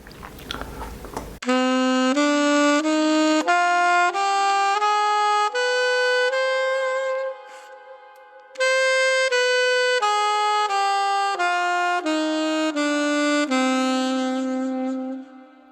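A saxophone plays an A harmonic minor scale up and back down, one sustained note after another at a steady pace, close and clear with no talking.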